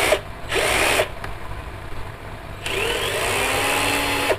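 An APR Japan cordless drill whirs in loud close bursts with a light impact vibration: a short run, a second run, a pause with faint clicks, then a longer steady whine as the pitch rises, with no talking.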